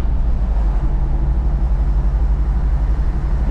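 Jeep 392 V8 engine revving through a tunnel, a loud, steady, deep low rumble that holds continuously at close range with no talk.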